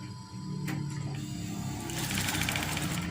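Sewing machine stitching a folded curtain hem, a steady fast mechanical whir running close and continuous throughout, alone with no talk.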